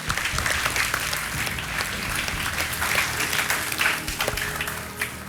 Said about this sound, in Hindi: जोड़ीदार के रूप में तालियां बज जाए इनके लिए